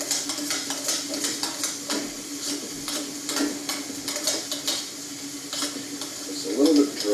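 Boiled potatoes, skins off, being mashed in a pot for a red wine mash, giving repeated soft scraping and squelching strokes with clinks of the masher against the pot, steady and close throughout.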